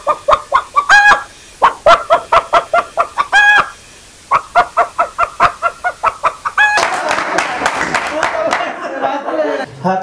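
A man uses his own voice to imitate a hen cackling after laying an egg. Rapid, rhythmic clucks come in quick close bursts with a brief pause, then give way to a rougher, noisier stretch near the end.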